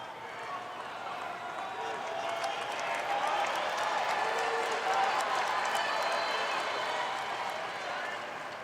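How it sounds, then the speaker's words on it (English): A US Open tennis crowd cheers and applauds during a women's fourth-round match, a broad, steady wash of clapping and roaring that swells toward the middle, with commentary over it. "And listen to the crowd."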